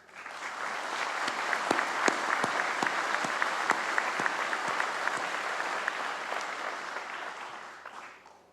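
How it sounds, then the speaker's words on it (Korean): An audience at a national police day ceremony applauds in a steady, even wave of clapping that swells quickly, holds, then tapers off, heard from a slight distance in a large hall. "경찰 여러분의 헌신에 격려의 박수를 보냅니다."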